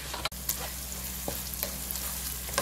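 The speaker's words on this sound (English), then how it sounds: "So at this point, just keep stirring." Dried pepper sauce with prawns fries and sizzles steadily in a pan while being stirred, with a constant close hiss and a few soft scraping taps.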